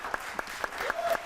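A few scattered hand claps from a small audience on a talk show, with a handful of distinct sharp claps in an uneven rhythm, fairly close and short.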